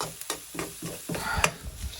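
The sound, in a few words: chilli being stirred and fried in a pan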